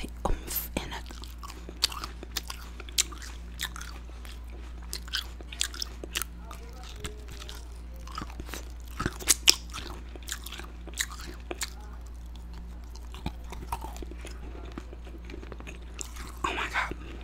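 Homemade caramel-flavored apple candy crunched and chewed close to the mic in sharp, irregular bites and crackles, with quiet gaps and soft mouth sounds between them.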